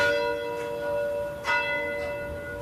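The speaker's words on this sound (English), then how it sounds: "This is our little bell." A small bell at a Louisiana prison rings with a steady, sustained metallic tone, with a couple of brighter strikes standing out partway through, heard alone with no talking.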